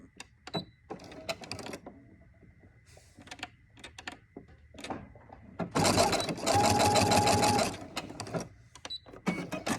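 Sewing machine fitted with a walking foot attachment, running a steady burst of stitching for about two seconds, loud and close, after scattered clicks and handling noises.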